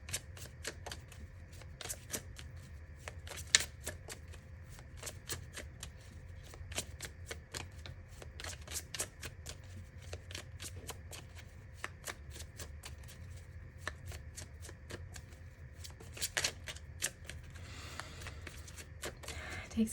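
Chakra cards are shuffled close by, a soft, quiet run of papery riffles and light taps repeating steadily for about twenty seconds.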